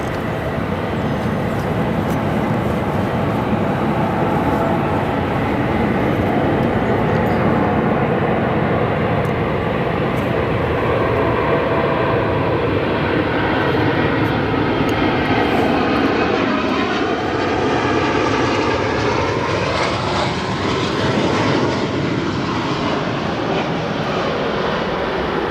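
Kuehne+Nagel cargo jet landing at O'Hare on its second attempt, a loud continuous engine roar with broad rushing noise and a shifting whine as it passes close, with no voices.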